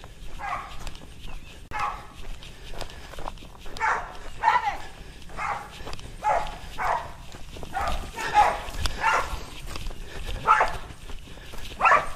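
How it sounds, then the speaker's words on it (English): A dog barks repeatedly at a rabid raccoon outdoors, steady sharp barks from a short distance, while people talk over the barking. "Her dog's still over here going nuts."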